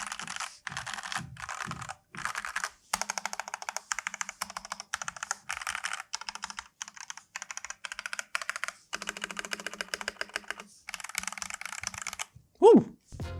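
Bursts of rapid clacky keystrokes on a NOIR OLV75 mechanical keyboard, typed in quick runs separated by short pauses, close and clear, with a heavier thunk near the end.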